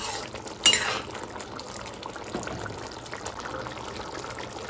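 A spoon stirs a potato and pumpkin curry (alu kumror chokka) in a pot after garam masala powder goes in. One sharp clank against the pot is followed by soft, steady scraping and mixing.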